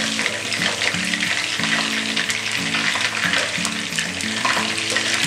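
Small chicken pieces fry in oil in a kadai with a loud, continuous crackling sizzle, while steady tonal background music plays underneath.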